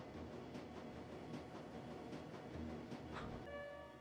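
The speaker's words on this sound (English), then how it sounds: "The train is speeding towards the crew bazaar station." Train rushing along in the video game Shadowrun Dragonfall, a steady loud rumbling drone that fills the whole stretch, with a brief horn-like tone near the end.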